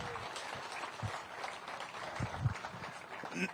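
A crowd at a Bassmaster Elite Series bass fishing tournament weigh-in on Pickwick Lake applauds steadily, a dense wash of clapping with a few louder hand claps and shouts mixed in, moderately distant.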